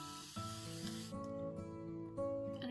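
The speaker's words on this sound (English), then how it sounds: "So you just spray down and it comes out in like a mist." An NYX setting spray face mister is pumped a few times in quick succession, each push giving a brief, close, soft hiss of mist.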